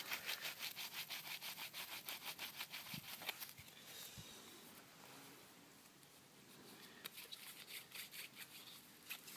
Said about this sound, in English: I'm taking the tops of these ridges off, smoothing it out.